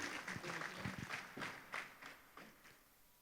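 An audience at a staged devotional program in Nagpur gives scattered, faint applause welcoming the singer. The claps come in irregular bursts and fade toward the end.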